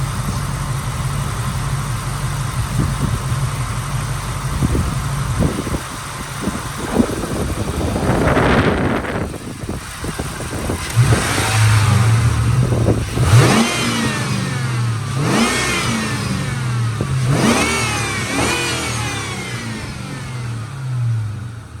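A 1996 Ford Mustang Cobra coupe with a Bassani X-pipe exhaust idles with a deep, loud rumble, then is revved in several rising and falling bursts that come at a steady pace.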